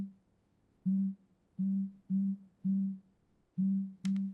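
A phone call's ringing tone sounds as a series of steady, low, beeping pulses, six evenly spaced tones with short gaps, clear and alone on a quiet line.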